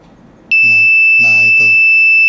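A buzzer on an Arduino Wemos alarm project sounds a loud, steady high-pitched electronic tone that switches on abruptly and holds, while a person talks over it.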